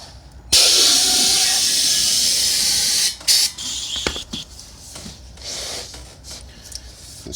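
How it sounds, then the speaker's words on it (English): Compressed air from a nozzle hisses loud and steady for about two and a half seconds into the inner tube of a Cleveland wheel tire on a Piper PA-28 Cherokee. It then cuts off and gives way to scattered handling noises. "if you've got your air nozzle, you can put a little air in this tube first"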